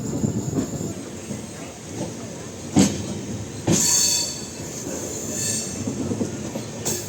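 A Cuddalore–Mysore Express passenger train rumbles along the tracks near Cuddalore Port Junction, with rhythmic wheel clacks and occasional sharp bangs, a steady rolling noise heard from inside the carriage.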